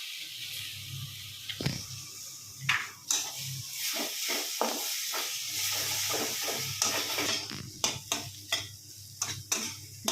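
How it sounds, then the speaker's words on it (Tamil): Egg cracked into a hot pan where dried fish (karuvadu) is frying: sharp taps and clicks scattered over a low steady hum and faint sizzling hiss. "ஒரு முட்டை இங்கே உடச்சி விட்டுக்கிறேன்"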